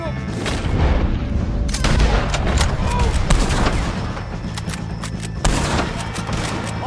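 A Red Dead Redemption 2 shootout against O'Driscolls brings dense bursts of gunfire with heavy booming shots. The shots ring out in rapid volleys, loud and close, with brief shouting voices mixed in.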